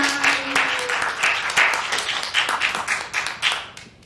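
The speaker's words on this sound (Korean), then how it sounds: "우리가 잠깐 이 시간 박수로 환영했으면 좋겠습니다" A church congregation at a youth worship service applauds in welcome. The clapping is brisk and fairly dense, runs for a few seconds and thins out toward the end.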